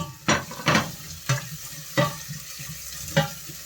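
Onions sautéing in a pan for Filipino ginataang manok (chicken in coconut milk): a soft, steady sizzle broken by five or six sharp scraping stirs of a utensil against the pan.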